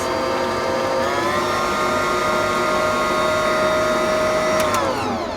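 An electric mixer whisking runny whole wheat bread batter whines with a steady motor tone that shifts pitch slightly, loud and close, with no talking.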